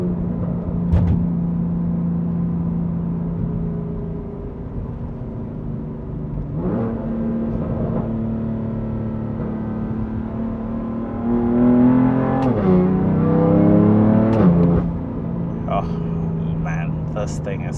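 A 2018 BMW M3 CS engine heard from inside the car while driving, with a steady drone that rises in several revs and drops with gear shifts, under someone talking nearby.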